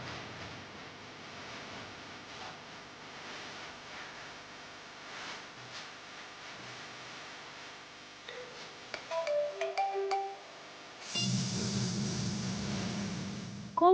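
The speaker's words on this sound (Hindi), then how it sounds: "कौन फोन कर रहा है?" A mobile phone rings with a short electronic melody of bright tones, then a louder buzzing ring follows, heard indoors over a quiet background with no talking.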